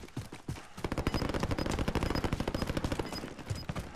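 Gunfire in Call of Duty: Modern Warfare battle royale, rapid automatic bursts that merge into dense, sustained shooting of fairly even loudness, nearby and without talk.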